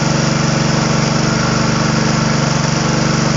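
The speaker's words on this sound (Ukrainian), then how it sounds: "Хочу сказати, що мотор підгазовує" A generator driven by a 3 kW, 1420 rpm asynchronous motor runs with a steady, close, loud droning hum and an even rhythmic throb, with no change in speed.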